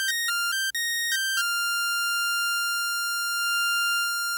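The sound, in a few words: harsh synth tone from Harmor in FL Studio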